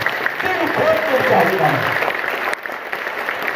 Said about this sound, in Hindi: अभी तक की जितनी ताली बजी है उससे जबरदस्त ताली एक बार मैं फातिमा शेख के लिए चाहूंगा।